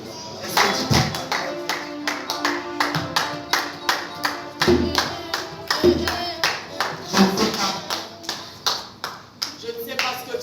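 A worship congregation claps in acclaim of Jesus, a steady rhythmic beat of many hands repeating through the whole stretch, with voices mingling underneath.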